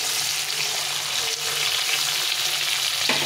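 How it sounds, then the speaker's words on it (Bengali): Hilsa fish pieces sizzle steadily in hot oil in a Bengali mustard-paste curry, a dense continuous crackle with a brief scrape near the end and no talking. "মাছটা তেলে দিয়েছি।"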